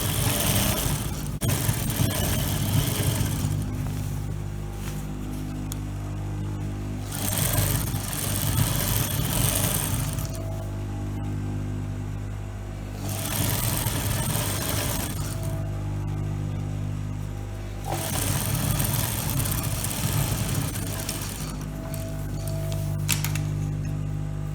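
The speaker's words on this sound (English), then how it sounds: "Then I'm going to sew the sides again" A sewing machine stitches the side seams of a skirt lining in several bursts of steady, close mechanical whirring and rattling, separated by short quieter pauses. No one speaks.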